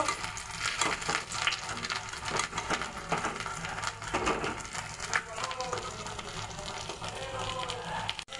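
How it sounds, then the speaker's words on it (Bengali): Quiet crackling and sputtering of stuffed taki fish frying crisp in hot oil, a continuous low sizzle with faint scraping, heard close up. "মাছটা অল্প আছে, মচমচ করে ভেজে নেব।"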